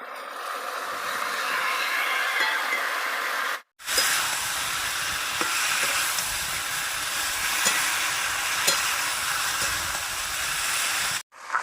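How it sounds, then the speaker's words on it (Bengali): Fried cauliflower and potato tipped into a pan of well-cooked spice masala give a loud, steady hiss and sizzle with soft stirring knocks, broken by two brief silent pauses. "তো এবার দিয়ে দেবো ভেজে রাখা ফুলকপি আর আলু"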